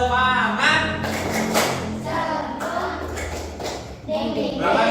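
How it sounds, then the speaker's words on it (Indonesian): Classroom of students doing a rhythmic spirit clap, a burst of patterned hand claps and taps with a teacher's voice and children's voices mixed in. "Kita tepuk semangat dulu ya."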